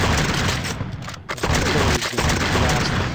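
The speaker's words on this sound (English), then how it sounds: "Now Johnny Reb's going to be able to fire back at me." Booming artillery and crackling musket volleys from a Civil War battle game fill the clip as a continuous dense barrage, loud and close, with heavy thuds and scattered reports layered throughout.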